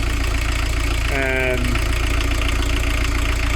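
A diesel van engine runs steadily at idle just after its fuel screw was backed off, a constant low rumble filling the clip with a brief tonal whine partway through.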